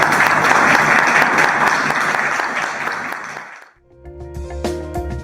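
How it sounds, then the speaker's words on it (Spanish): Applause from an audience after a public university thesis presentation, dense and lively, then cut off abruptly near the end and followed by a short burst of tonal music. "Un aplauso."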